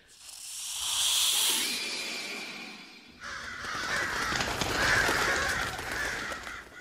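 Sinister serpent hissing gives way to harsh cawing crows in a dark fantasy scene, a loud sustained hiss first, then after a brief break repeated raspy caws over a rough noisy bed, with no talking.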